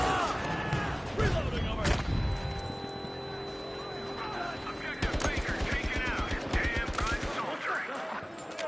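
Gunfire in the video game Battlefield 2042, a near-continuous battle roar of rapid automatic bursts and sharp cracks, loudest in a dense rattling stretch toward the end, with a steady engine-like drone underneath.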